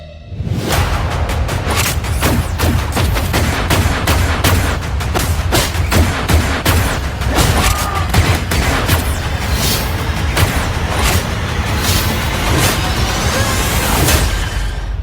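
Rapid gunfire from the Rebel Moon: Scargiver trailer, a dense string of sharp shots and heavy booms in fast irregular succession with low rumbling underneath, loud and continuous from start to finish.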